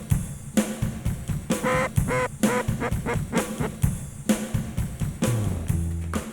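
Ducks and geese call near a creek during a late-season waterfowl hunt in Alberta, a close run of repeated honks and quacks in quick uneven bursts with no voices.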